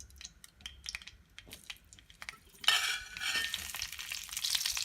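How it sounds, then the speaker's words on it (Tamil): Small whole brinjals go into hot oil, starting with scattered clatter and stirring taps, then bursting into a loud, steady sizzle that continues close by. "இதை இந்த ஆயிலில் போட்டு ஃப்ரை பண்ணிக்கணும்"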